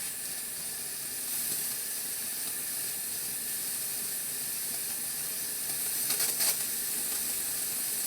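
An airbrush sprays paint in a continuous airy hiss until the paint pot runs empty, steady throughout with a brief spluttering change near the end, heard close with no talking.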